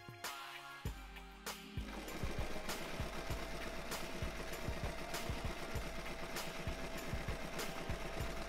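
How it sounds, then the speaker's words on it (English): A sewing machine zigzag-stitching a child's fruit-print swimsuit trunks: after a couple of soft handling knocks, a steady, fast mechanical chatter runs continuously and close, with no talk. "once I cut it, I'm going to secure it with a zigzag stitch"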